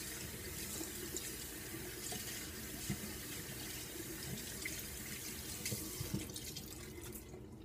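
Tap water runs steadily into a sink while a face is washed with soap, a constant close splashing stream with small drips and no talking.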